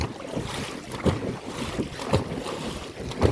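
Rowing paddles dig into the water in a steady stroke rhythm, splashing every second or so over constant wind and water noise outdoors.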